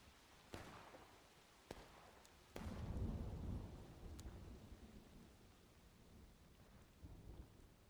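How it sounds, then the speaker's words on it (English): Thunderstorm inside a video game, with rain hissing steadily while several sharp cracks of thunder strike close by, followed by a deep rolling rumble that swells and slowly fades under the continuing downpour. "I'll reduce the storm a little bit."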